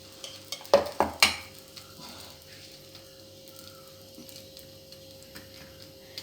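Wheat appam batter hitting a hot griddle stone, a few sharp scrapes and clacks of a ladle at first, then a quiet, steady low sizzle close by.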